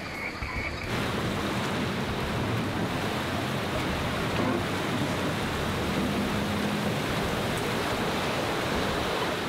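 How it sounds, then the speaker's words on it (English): A four-wheel drive carrying a rooftop tinny creeps through a deep river crossing on the Cape York track, with a loud, unbroken rush of churning water and engine noise filling the whole stretch. "With Jamie guiding him, Tommy makes his way slowly through the deep water"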